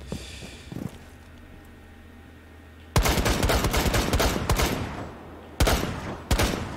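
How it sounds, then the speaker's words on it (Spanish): Heavy gunfire from the video game Rainbow Six Siege: quiet ambience gives way to a sustained loud burst of rapid shots, followed by two more sharp volleys near the end. "¿Habéis visto la de tiros?"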